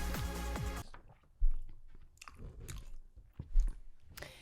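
Someone chews on a wax candle shaped like an empanada, with wet crunching bites and mastication close to the microphone after a burst of loud music fades out.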